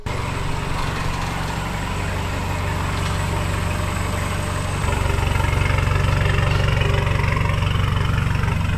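Swapped Nissan Patrol engine running hard on a dyno, a loud, heavy, continuous drone that steps up in intensity partway through, close and dominating the scene with no talk.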